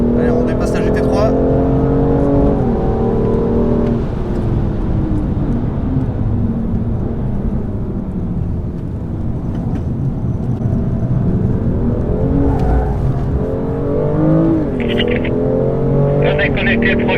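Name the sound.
BMW M2 accelerating while overtaking a GT3 on track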